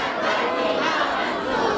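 Large protest crowd at a street demonstration in Quetta shouting a slogan response in unison, a dense roar of many voices sustained evenly throughout.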